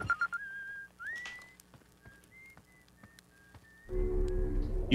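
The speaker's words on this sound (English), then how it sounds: "You feel like whistling?" A series of short, clear whistled notes with slides and steady held tones sounds in the video game Outer Wilds, fairly faint and alone, before a louder low rumble rises near the end.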